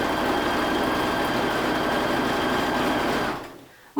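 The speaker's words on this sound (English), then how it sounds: "I'm going to put the presser foot back down and continue to sew." A sewing machine stitches a warm baby blanket in a steady, loud, continuous whir that runs for several seconds, then winds down and stops near the end.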